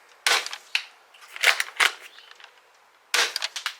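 An Adventure Force foam dart blaster fires several times, each shot a sharp close pop with a short rattling tail, coming in uneven bursts separated by brief quiet gaps.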